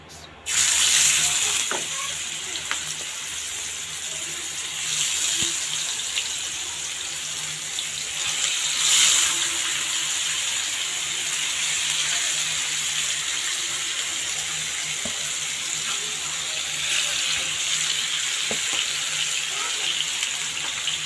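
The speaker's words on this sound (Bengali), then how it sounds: "এখন আমি এগুলি ভাজবো" Large pieces of pangas fish coated in ginger, garlic, cumin and coriander powder fry in a pan with a steady, continuous sizzle and occasional louder crackles and bubbling over about twenty seconds.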